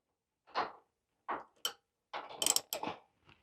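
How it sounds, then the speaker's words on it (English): A ratchet wrench being turned while building a chassis jig, giving several short, separate bursts of clicking and grinding ratchet sounds, close and fairly quiet, with silent gaps between them and no talking. "Turn my ratchet around the other way."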